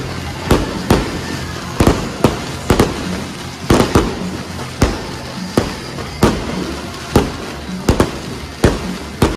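Fireworks bursting over Baguio Christmas Village, a steady series of sharp, loud bangs roughly every half second to second, with crackling tails and a faint crowd murmur underneath.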